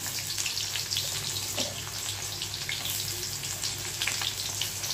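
Chopped onion and whole garlic fry in a pan, a steady close sizzle and hiss with small crackles and no talking.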